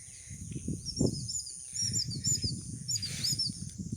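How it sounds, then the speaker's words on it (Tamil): Several birds chirp and tweet in high, overlapping calls, with a low rustling, muffled background beneath them. "நிறைய பறவைகளோட சத்தம் தான் இங்கே அதிகமாக கேட்குதுங்க"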